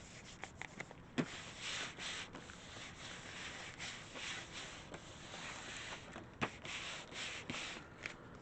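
Homemade stamps being rubbed down by hand, a faint scratchy scrubbing and brushing texture across the whole stretch, with a few soft taps and bumps mixed in, close and quiet with no talk.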